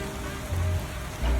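Rain falling on a construction site in Japan, a steady dense patter with a low rumbling hum underneath, close and continuous with no voices.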